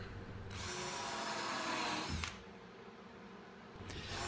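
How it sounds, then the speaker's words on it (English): Cordless drill driving screws into a plywood shelf, a close whine of the motor rising for about two seconds, then a short second burst after a pause. "I'm putting screws about every 4 inches"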